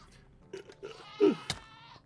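A Minecraft goat horn, the 'Mire' variant, is sounded in-game as a short, moderately loud tonal blast with a bleating, goat-like quality, following a few faint sounds and with no talk.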